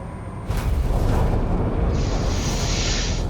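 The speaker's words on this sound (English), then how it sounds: "Initiating atmospheric entry." A spacecraft in the video game Mass Effect Andromeda enters a planet's atmosphere with a sudden loud rushing roar that begins abruptly and then holds as a dense, sustained turbulent blast.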